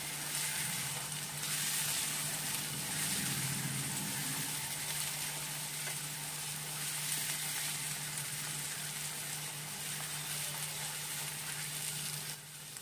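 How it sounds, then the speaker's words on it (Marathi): Ground spices, including cumin powder and garam masala, frying in oil in a pan for a spicy prawn dish, giving a steady, even sizzle that holds for the whole stretch, faint and close, with no voices. "सर्व मसाले एक मिनिटासाठी परतवून घ्या"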